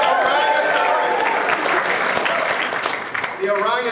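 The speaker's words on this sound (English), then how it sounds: "The next one, give it a cheer, is the orangutan" Wedding guests at a best man's speech cheer and clap loudly, a dense, sustained burst of applause with whoops throughout that tapers slightly near the end as a voice begins over it.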